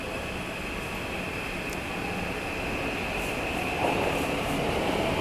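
A train departs from a station, a steady low rumble with a sustained mechanical whine that swells slightly as it pulls away, heard from nearby without speech.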